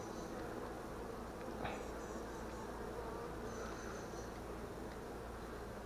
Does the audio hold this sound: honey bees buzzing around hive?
yes